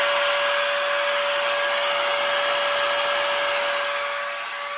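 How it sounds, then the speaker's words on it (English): A drill-driven pump drains the last water from a boondocking water bladder, running as a steady, loud whine with a constant tone and broad hiss for several seconds, easing slightly at the end. "So we're just draining what's left of the bladder through the drill pump."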